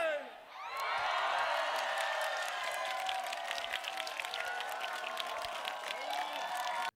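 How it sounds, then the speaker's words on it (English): A large concert crowd sings along to a chorus as one sustained, loud mass of voices, with cheers and whoops mixed in throughout. "the crowd's singing along to the chorus now"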